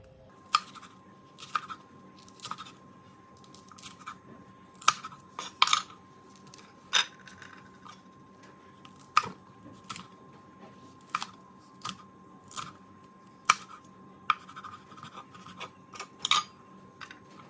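Sharp, irregular knife taps on a cutting board as long red chili is sliced thinly, each chop crisp and distinct over a faint steady hum.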